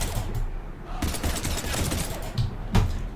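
Bursts of automatic gunfire rattle through a video game firefight, with sharp shots breaking over steady background noise and a voice speaking alongside.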